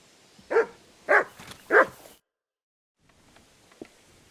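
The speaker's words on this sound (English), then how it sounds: "Good doggy. Good boy." A dog in the video game Kingdom Come: Deliverance II gives three sharp, evenly spaced barks close by, followed by a brief silence and then faint ambient sounds.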